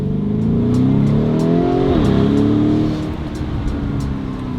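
Lamborghini Urus engine revs up loudly from close by, the pitch climbing then dropping back as it shifts, settling into a lower rumble while the car moves on a test drive.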